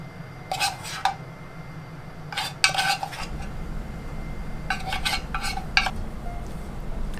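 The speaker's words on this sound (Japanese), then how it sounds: "こういう風にスプーンで混ぜていきます" Metal spoon stirring and scraping ground meat in a bowl, in short clattering bursts with pauses between them, close and fairly loud over a low background hum, no talking.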